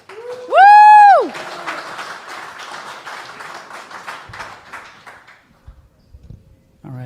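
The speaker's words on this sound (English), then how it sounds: "a round of applause for Dave" A room full of people applauding to welcome a speaker named Dave, a moderate burst of clapping that follows a loud rising tone and fades out over a few seconds.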